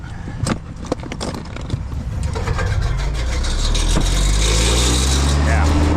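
A truck engine running rough turns over and catches, settling into a loud, uneven idle with some clattering near the start.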